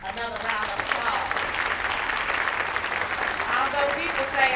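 Audience applause at an MLK celebration for a group of 7th graders, a steady rattle of clapping lasting several seconds, with a voice speaking over it.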